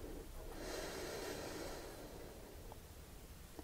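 Deep breathing during a yoga class, a long steady breath lasting a couple of seconds, close and soft, followed by quieter air noise with no talking.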